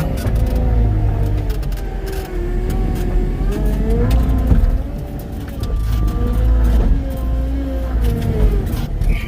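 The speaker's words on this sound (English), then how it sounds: "Skidder coming out here with the drag, so we'll move out of the way." A logging skidder drags logs out of the woods, its diesel engine droning loud and close with rising and falling revs throughout.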